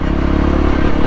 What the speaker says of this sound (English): No problem whatsoever, clutchless gear changing.